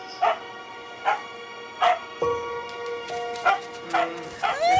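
Dogs bark repeatedly in a steady rhythm, close and fairly loud, with some yips and a whimpering tone mixed in.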